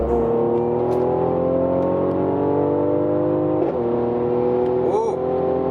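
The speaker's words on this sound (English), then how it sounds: "So I'm gonna go ahead and put it in Sport Plus for the first time, and let's see how it picks up." A 2018 Mercedes-AMG C43 in Sport Plus mode accelerates hard, its engine note climbing steadily under continuous load with a brief dip, as if from a gear shift, partway through. It sounds loud and close throughout.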